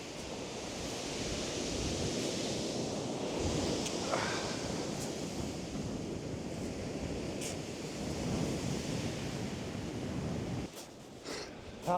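Strong, relentless wind buffets across Blackpool Sands beach in February, a steady loud roar blended with surf wash, continuous and close, briefly dropping near the end.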